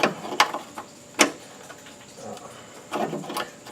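A line wrench works a brake line fitting back and forth, giving sharp metallic clicks and scraping clanks in irregular bursts, close and fairly quiet against a low background.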